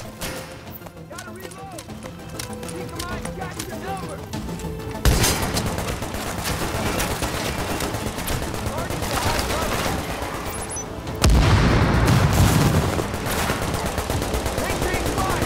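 Gunfire in The Division, including rapid fusillades and machine-gun bursts, rattles steadily throughout with a louder stretch near the end, mixed with game sounds under talking voices.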